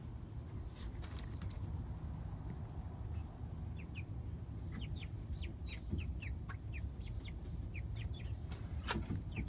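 Ten-week-old chickens on their first full day outside cluck and chirp in short bursts over a constant low rumble, fairly close, with a few scattered taps and rustles.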